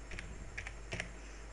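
Several quick keystrokes on a computer keyboard clack in small bursts, close and fairly faint, with short gaps between the groups of presses and no talking.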